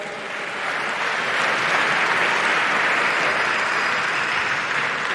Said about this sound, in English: So may we give another round of applause